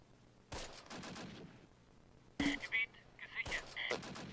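Gunfire in the Close Combat wargame, with a few separate bursts of shots at a moderate distance over a low background hum, the later bursts louder and tightly clustered.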